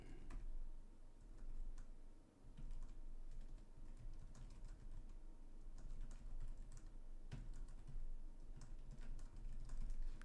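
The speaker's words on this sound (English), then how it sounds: "Let me quickly write a message." Quick, steady tapping on a computer keyboard as a message is written, a continuous run of light clicks with brief pauses, close and quiet over faint background hum.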